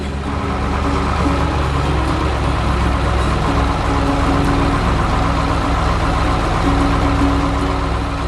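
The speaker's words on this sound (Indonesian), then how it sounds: "Truk biru sedang berjalan di tengah kebun hijau yang indah" A truck engine hums steadily at a constant, moderate level, a continuous mechanical drone with no voices.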